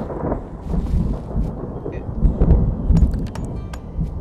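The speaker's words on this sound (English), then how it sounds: "Yep, that's a good old thunderstorm." In the video game Outlaws of the Old West, a thunderstorm rolls in, deep rumbling thunder swelling and fading over a bed of steady rain.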